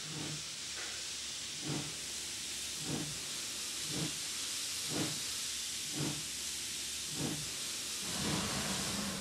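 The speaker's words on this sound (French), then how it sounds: "C'est ça la vapeur." Mikado steam locomotive venting steam in a loud continuous hiss, with rhythmic chuffing bursts roughly once a second that swell near the end.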